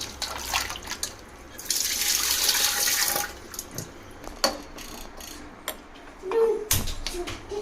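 Sweet potatoes being washed by hand in water to remove soil at home, with splashing, running and pouring water in short bursts, occasional knocks and clinks, close and moderately loud.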